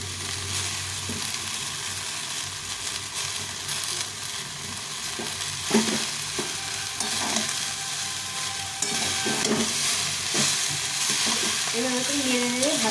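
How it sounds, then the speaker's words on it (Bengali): Leafy greens fry in a pan, giving a steady moderate sizzle and hiss with occasional stirring scrapes, close by; a faint tonal whine rises near the end. "শাকটা দিয়ে শাকটা ভাজতে হবে"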